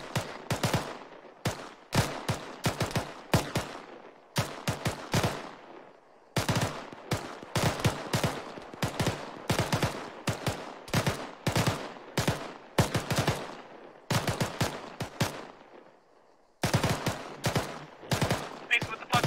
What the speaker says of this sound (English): Why are you fucking firing up bursts?